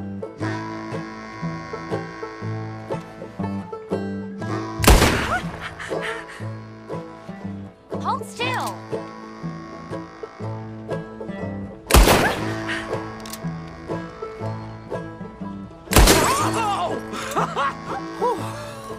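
Gunfire in Red Dead Redemption 2 shatters bottles: three sharp, loud shots land several seconds apart over a busy game music bed with faint ambient sounds.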